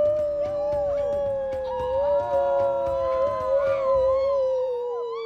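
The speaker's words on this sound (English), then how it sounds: "A howl." Several drawn-out howls overlap and waver in pitch, a chorus of canine voices rising and falling together at moderate distance.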